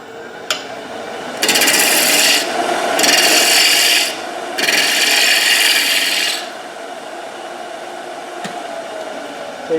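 Green, wet wood turning on a lathe gives loud rasping, scraping bursts of cutting, three long passes separated by short pauses, over a steady low motor hum.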